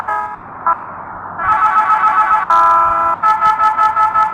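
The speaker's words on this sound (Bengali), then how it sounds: "ভাই কি সে হর্নগুলো" Bus horns blare in a driving video game: loud, musical multi-tone honks, first long held blasts and then a rapid rhythmic series of short toots.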